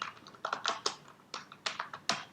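Typing on a computer keyboard, close and clear, with bursts of individual key clicks in an uneven rhythm: a short run of taps, a brief pause, then more quick keystrokes.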